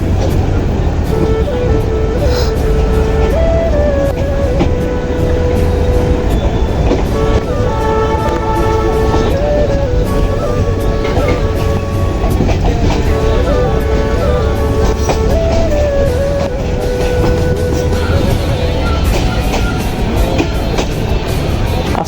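A Turag commuter train rumbles continuously along the tracks past Biman Bandar railway station between Gazipur and Dhaka, with a loud, steady roar, wheel noise and faint tonal whines rising and falling throughout.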